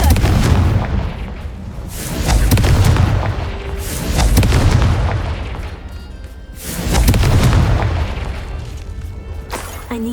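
Confringo fire spells from Hogwarts Legacy gameplay burst in a series of heavy booming explosions, about four rolling blasts that swell and fade with deep rumbling tails.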